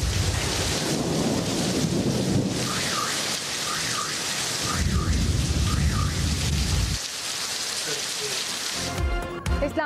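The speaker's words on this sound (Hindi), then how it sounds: "गरज चमक के साथ मूसलाधार बारिश से मौसम ठंडा ठार" A thunderstorm with heavy rain over Islamabad: a constant downpour drums and hisses while deep thunder rumbles roll through, swelling and fading before the sound cuts off abruptly near the end.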